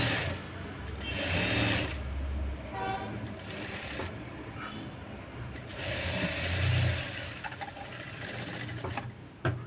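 A sewing machine stitches piping tape onto a blouse, its motor whirring in several close bursts of rapid stitching separated by short pauses.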